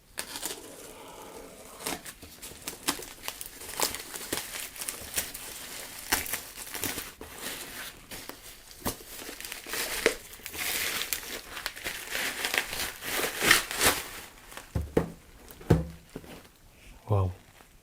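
Packaging for a Flydigi Scorpion D1 one-hand keyboard is handled and opened, with steady crinkling and rustling of paper and plastic up close, ending in a few sharper clicks and thumps.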